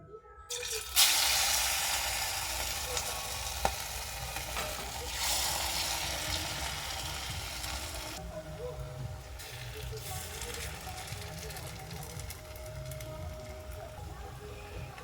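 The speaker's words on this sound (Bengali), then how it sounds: "এবার আমি কড়াইতে তেল দিয়ে এগুলো ভেজে নেব" Egg and ground lentil batter frying in hot oil in a kadai, a loud, continuous close sizzle that flares at the start and settles into a steady crackle for the rest of the clip.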